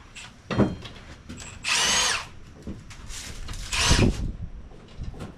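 A power tool, likely an impact or drill, backs out loose transmission pump bolts in a speed shop garage, with two loud sustained bursts of whirring between lighter clicks and handling noises, close by.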